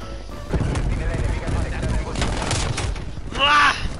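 Turret gunfire in the multiplayer shooter Call of Duty Cold War, loud, dense bursts of shots and impacts rolling through the whole moment, with a voice shouting over the top near the end.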